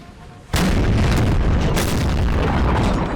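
Napoleonic artillery in Napoleon: Total War, a 4v4 battle: a sudden heavy cannon boom, then a second blast about a second later, with rumbling battlefield noise sustained loudly throughout.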